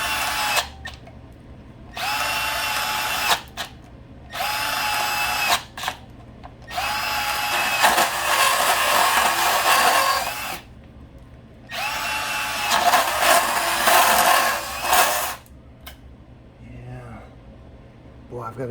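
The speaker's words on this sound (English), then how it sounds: "I'm going to show you how it cuts through this liquid tight." A Milwaukee cordless sub-compact bandsaw cuts through liquid-tight conduit in several loud, sustained whining bursts separated by short pauses, close up.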